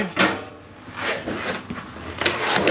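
RV kitchen drawer in a 2024 Forest River Timberwolf travel trailer sliding along its drawer glides, a few short rubbing and clunking strokes close by.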